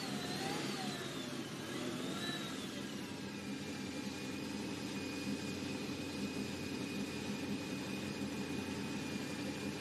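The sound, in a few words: drift car engine revving on circuit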